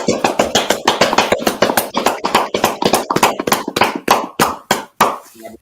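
Hands clap rapidly and loudly at close range in a quick, uneven rhythm of roughly two dozen sharp claps, with no talking.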